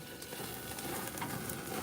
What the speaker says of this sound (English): Look at that sizzle, sizzle,